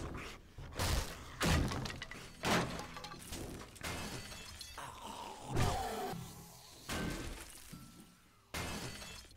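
Zombies smash through barriers in 7 Days To Die: repeated loud crashing, shattering impacts land in bursts about every second or two, with growling snarls and scraping debris between the hits.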